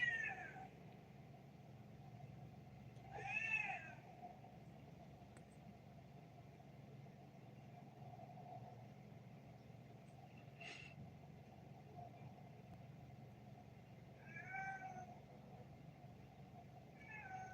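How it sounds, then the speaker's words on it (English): Cats meow indoors several times, in short spaced calls over a faint engine-like hum, with no talking. "Yes, it's kitties."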